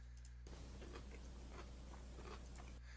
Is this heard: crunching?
yes